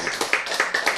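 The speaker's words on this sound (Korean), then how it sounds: "자, 우리 박수 쳐야지." Audience members at a health lecture clap in a brief rhythmic burst, about six sharp, fairly close claps in quick succession.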